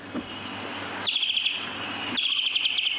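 A bird gives two short, high chirping calls about a second apart, fairly close and clear over a quiet background.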